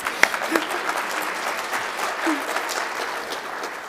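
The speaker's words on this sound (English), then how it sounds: "So give him a good round of applause." Audience at a university awards ceremony applauding the Vice Chancellor of Student Affairs: a steady wash of clapping from many hands, moderately loud and fairly close, with a few sharper individual claps standing out, sustained throughout.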